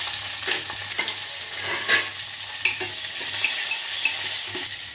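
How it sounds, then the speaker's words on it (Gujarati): Ridge gourd peel fries in a pan as it is stirred, giving a steady sizzle with occasional scraping stir clicks throughout. "આ રીતે આપણે એને કડક થાય ને ત્યાં સુધી આમ ફેરવતું રહેવાનું"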